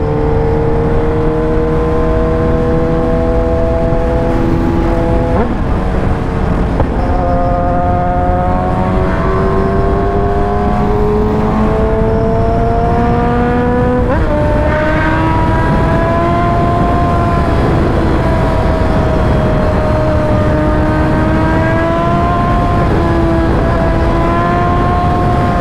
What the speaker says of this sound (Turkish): Egzoz sesi olduğu için malum. Suzuki'nin de bayağı yüksek sesi var